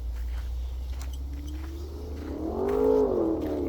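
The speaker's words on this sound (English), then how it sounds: "that's definitely a motorcycle or a muscle car." A motorcycle or muscle car passes at a distance near a lush wooded spot, its engine note swelling and bending in pitch for about a second over a steady low outdoor rumble.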